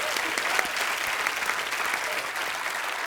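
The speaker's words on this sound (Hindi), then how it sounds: "जोरदार तालियां इस बात के लिए." A studio audience at a Kapil Sharma comedy talk show applauds loudly, with dense, sustained clapping that fills the whole stretch, plus faint crowd murmur beneath.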